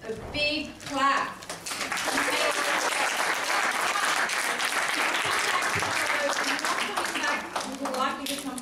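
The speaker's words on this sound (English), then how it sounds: "I want you to give yourselves a big clap." Sustained, loud applause from an audience at a women's summit fills the room, starting after a brief spoken line and continuing steadily for several seconds before tapering as voices return.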